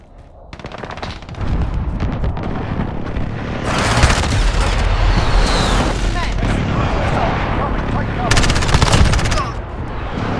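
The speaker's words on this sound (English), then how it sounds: "Enemy precision airstrike. Take cover." An enemy precision airstrike and gunfire in a Call of Duty beta match. Rapid automatic shots run under loud, continuous rumbling blasts, while in-game announcer voices speak over the noise.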